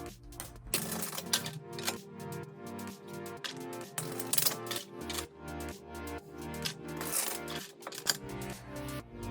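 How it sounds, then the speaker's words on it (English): Rapid, crisp tarot card shuffling, a dense run of riffling clicks and snaps repeating in bursts over steady background music. "Let's get to shuffling."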